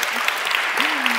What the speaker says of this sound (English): So, round of applause for all of you.